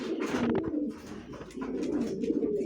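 Racing pigeons cooing close by, a few rolling coos rising and falling over a couple of seconds with no voices.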